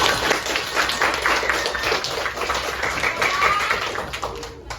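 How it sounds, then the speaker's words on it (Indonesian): Classroom students clap their hands together in a lively, sustained burst of dense, overlapping claps, with faint voices mixed in. "tepuk tangan untuk kita semua"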